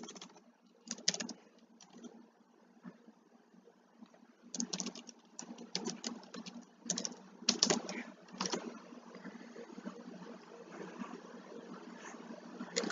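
Bursts of rapid keyboard typing, clicky and close, coming in irregular clusters separated by short pauses.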